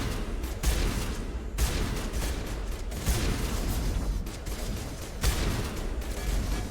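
Heavy shotgun blasts in the sci-fi video game Mass Effect, a rapid series of loud, booming shots with short gaps between bursts over a constant background of combat noise, with no talking.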